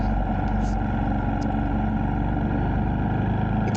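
A Motorstar Cafe 400 motorcycle rides on a road, its engine droning steadily and loudly up close with constant wind rush throughout.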